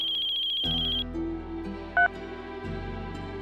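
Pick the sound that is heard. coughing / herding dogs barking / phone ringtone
phone ringtone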